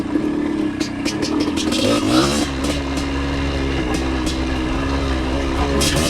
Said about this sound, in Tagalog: Pero okay naman yung motor natin.